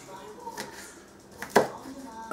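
A few sharp knife taps chopping spring onions on a cutting board, irregular and close, with soft talking in the background.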